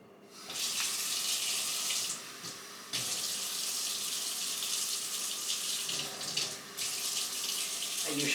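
A kitchen tap runs water into a container on a scale, a loud hissing stream that starts, briefly pauses twice and continues close to the microphone.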